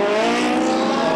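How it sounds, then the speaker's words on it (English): Race cars of the Trofeo Pirelli series pull away from the grid at Brno for the formation lap, a loud, steady wall of engine roar with a dense overlapping drone throughout. "The cars off the grid"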